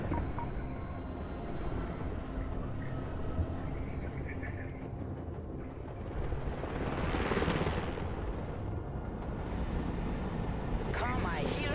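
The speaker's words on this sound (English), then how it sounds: "Let's go and recover it with our helicopter" Cargo helicopter flying in the military strategy game Broken Arrow, a steady dense rotor and engine drone that swells slightly toward the middle, with a voice talking over it.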